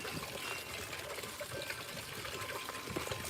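Stress Coat water conditioner poured into an outdoor pond during winterizing, a steady close trickling, splashing stream of liquid running without a break over a constant wash of moving water.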